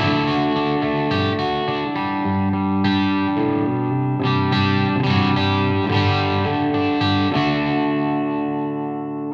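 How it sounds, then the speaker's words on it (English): Electric guitar through an ENGL amp's clean channel with a light overdriven edge, with strummed chords ringing and sustaining, played loud with no talking. "what a little bit of dirt on the clean channel sounds like"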